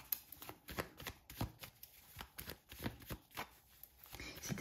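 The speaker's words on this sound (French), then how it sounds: "Attends, je vais tirer une carte." Tarot cards being shuffled and a card drawn: soft, quick riffling and flicking of cards close by in a steady rhythmic run of small papery bursts, fairly faint, with no talking.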